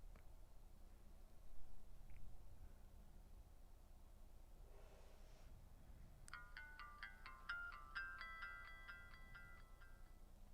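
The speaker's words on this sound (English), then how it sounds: "Has that old nice Verizon chime too." An old Verizon mobile phone plays its startup chime, a short bright run of ringing electronic tones that follows a few faint clicks in a quiet room.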